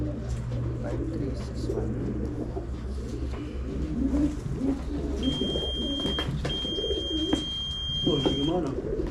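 Racing pigeons coo steadily in a loft, a dense murmur of overlapping calls that runs throughout, with people talking nearby and a thin high electronic tone briefly cutting in.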